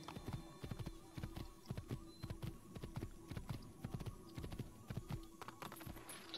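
Steady clip-clop of horse hooves while riding in Assassin's Creed, a quick, even rhythm of hoofbeats at close range that continues alone without pause.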